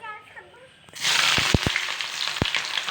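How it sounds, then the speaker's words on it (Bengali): Chopped onions drop into hot oil and burst into a loud, close, steady sizzle after a quiet start, with a few sharp stirring knocks against the pan. "এবার তেল গরম হয়ে গেছে, দিয়ে দেবো দুটো মতো পেঁয়াজ কেটে নিয়েছি, কুচানো পেঁয়াজ আমি এর মধ্যে অ্যাড করে দেবো"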